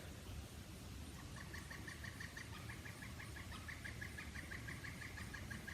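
A woodpecker calls outdoors in a few quick bursts of sharp repeated notes, faint and distant over a steady low hum.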